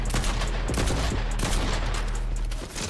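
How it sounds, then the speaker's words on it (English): Rapid gunfire in the Fortnite video game, a dense burst of repeated shots in quick succession, loud and continuous over a low background rumble. "I hear gunshots."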